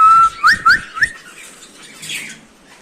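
Cockatiels and lovebirds in an aviary, loud close whistling chirps in a quick burst of several calls, followed by fainter squawks and twittering.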